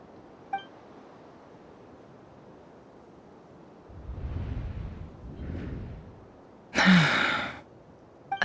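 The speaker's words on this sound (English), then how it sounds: "I heard Yehuda gasp" Genshin Impact character Yehuda lets out a sharp gasp, a brief loud burst near the end that follows softer breathy rustles, with no talking.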